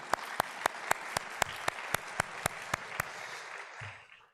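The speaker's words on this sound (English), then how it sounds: "Clap for your parents and family." Slow, evenly spaced hand claps ring out about every quarter second at a college honors convocation ceremony, with a broad wash of crowd applause underneath that fades away near the end.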